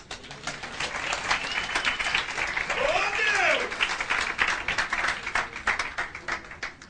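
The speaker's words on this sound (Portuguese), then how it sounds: "Palmas para os nossos atores." An audience at a church gathering applauds the actors, dense clapping that swells and fades while voices and a cheer rise over it and a speaker talks.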